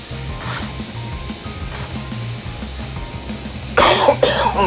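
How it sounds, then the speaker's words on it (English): A single person's cough, heard as one or two harsh close bursts near the end after a stretch of low background hum and faint clicks, with no talking. "Excuse me, my cough."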